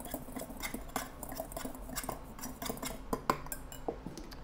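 A spice rub being mixed in a bowl, quiet close clinks and scrapes of a utensil against the bowl in a quick uneven rhythm, soft and without talking.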